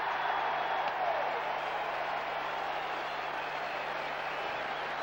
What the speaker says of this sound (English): The crowd at Ballymore have just come alive